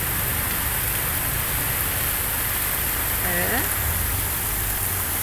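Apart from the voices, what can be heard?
heavy rain downpour in São Vicente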